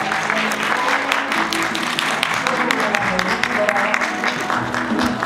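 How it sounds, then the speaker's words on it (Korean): Applause fills the hall at a Korean TV show press launch, with a dense, continuous clatter of many hands holding at an even level, and voices faintly audible beneath it. "뜨거운 박수로 환영해 주시기 바랍니다."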